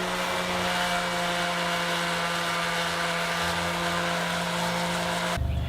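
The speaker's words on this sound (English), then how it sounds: "I'll go back and sand it all down with my random orbit sander." A random orbit sander whirs steadily on a wooden sign, a loud continuous motorized drone with a constant hum that holds until it cuts off abruptly near the end.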